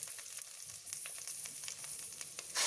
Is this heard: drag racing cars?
no